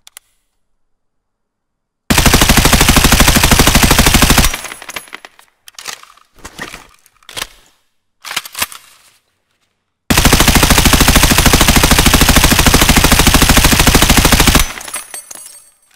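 An M4 rifle fires in Escape From Tarkov, loud sustained automatic bursts separated by scattered single shots and short volleys, then another long continuous burst.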